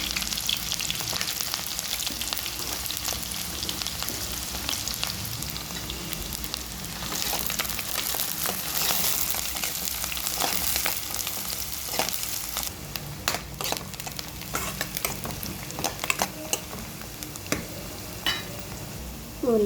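Onion and green chillies frying in oil in a pan, a long, dense crackling sizzle with spatula stirs and scrapes throughout, close up, with a sharper clink at the very end.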